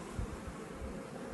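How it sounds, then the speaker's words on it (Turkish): A dense, steady buzz of bees fills the air, a continuous close hum with no voices. "Arılar gördüğünüz gibi sakin ve uysal."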